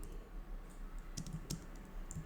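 Code being typed on a computer keyboard produces a quiet, irregular run of soft key clicks with a few sharper taps over low background hum.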